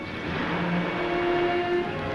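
A car engine in a 1940 film serial drones steadily, rising slightly in pitch as it hums past, continuous and fairly close, with no voices.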